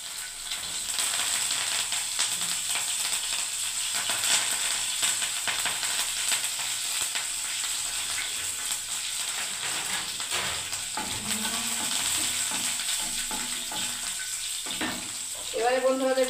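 Whole garlic, cinnamon and curry leaves sizzling in hot oil, a steady crackling fry with a few brighter pops and clinks toward the end, no speech over it.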